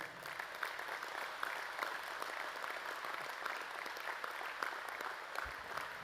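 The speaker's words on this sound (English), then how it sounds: "Let's give one more round of applause." An audience at a police fraternal order conference opening ceremony claps steadily in a sustained round of applause, dense and even throughout, with no voices above it.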